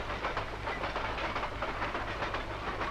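A train rolls along steadily with a low rumble and rhythmic clatter of wheels on track, loud and close, with no talking.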